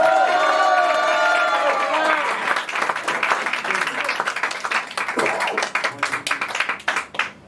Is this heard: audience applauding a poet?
yes